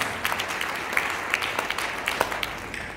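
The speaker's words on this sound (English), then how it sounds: "May we give him a round of applause." Steady applause from an audience at an evening event, a dense wash of many hands clapping at moderate distance, continuous throughout.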